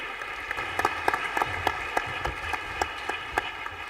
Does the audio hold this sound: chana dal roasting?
no